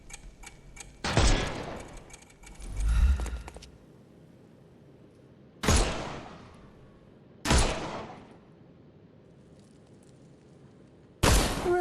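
Gunshots knocking armour off enemies in the video game Sherlock Holmes Chapter One, with four or five sharp, loud blasts spaced a few seconds apart, each followed by a ringing decay, over quiet background.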